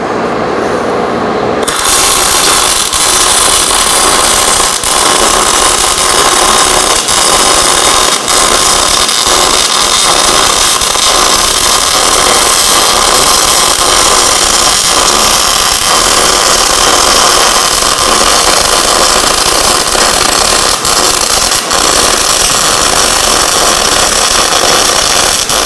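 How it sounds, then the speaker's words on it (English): Steady, loud, continuous welding along the side of a steel welding fixture table, a harsh crackling hiss sustained for the whole stretch with no talk over it. "So you can watch along as I weld this side."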